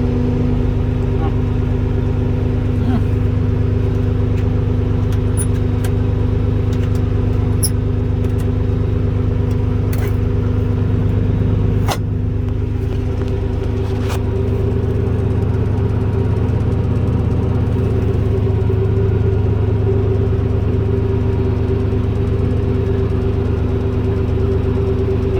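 An old tractor runs steadily after repair, its engine holding a loud, even idle with a low throbbing hum close to the microphone, occasional small clicks on top, and voices talking faintly over it.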